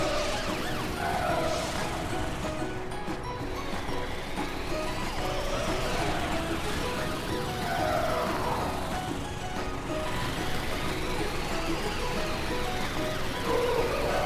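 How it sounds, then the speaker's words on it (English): A cartoon super truck's siren wails in a children's animated show set in Car City, rising and falling sweeps repeating steadily over busy background music and effects. "Time to put your siren on."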